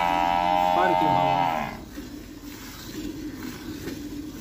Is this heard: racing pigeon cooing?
no